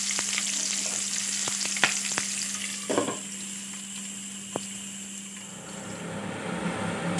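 Onions frying in a pan for a dal and fenugreek-leaf dish, a steady soft sizzle with occasional clicks and taps of a utensil, a low hum underneath, fairly close.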